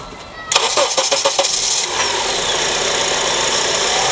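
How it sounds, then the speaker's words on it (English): A 2004 seventh-generation Honda Accord engine cranks with a few quick chugs, catches, and settles into a steady, fairly loud idle that keeps running during a power steering fluid change. "I'm going to run the engine to make sure the pump sucks it in"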